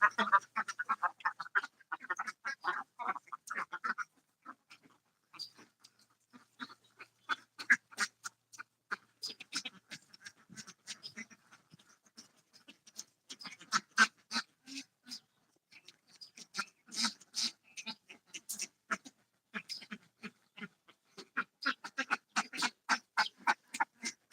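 Many ducks on a duck farm quack in rapid, overlapping bursts, sometimes a dense chorus and sometimes scattered calls, fairly close and continuing throughout.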